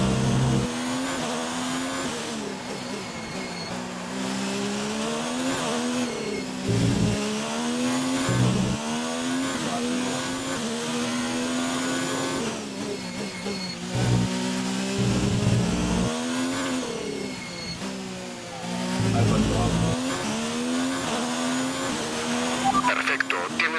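Ferrari Formula 1 car engine in the F1 2019 racing game at the Russian Grand Prix, a loud continuous high-pitched whine rising and falling through gear changes for the whole stretch, with talk over it.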